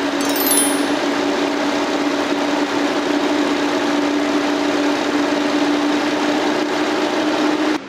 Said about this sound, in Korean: 인피니티 G35 차량의 엔진 소리까지 한번 들어봤는데요